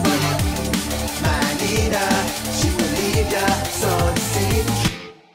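Dense electronic music drop with many layered vocals glued by compression, loud and continuous with a driving beat and busy full-range texture, cutting off abruptly near the end, with no talking.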